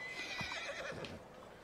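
A horse neighs in a town in the video game Red Dead Redemption 2, a fairly quiet, wavering whinny heard alone with a faint background bed.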